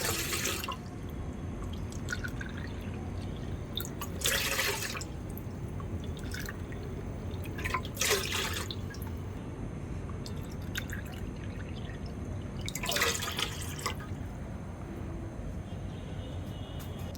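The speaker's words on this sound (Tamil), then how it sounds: "இப்போ ரைஸ் குக்கரில் தண்ணி ஊற்றியாச்சு" Water poured from a cup into a rice cooker for chicken biryani, cooked outdoors in a village, comes as several short splashing pours over a steady low background hum, close and moderately loud, with no talk.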